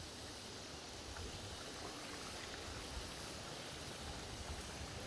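Steady broadband rush of flowing creek water in a rural river area, running continuously, soft and even with no voices.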